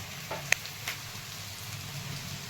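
Brinjal sautéing in a pan with turmeric gives off a steady, soft frying sizzle, with a couple of faint clinks from stirring over a low background hum.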